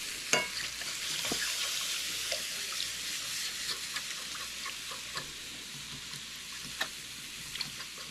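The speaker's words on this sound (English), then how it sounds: "And then I'm going to add some shelf-stable milk here, just kind of whisking as you add it" Milk being whisked with a fork into a thickening brunch sauce in a pan: a steady bubbling hiss with scattered light scrapes and clicks from the fork, fairly quiet and close, with no one speaking.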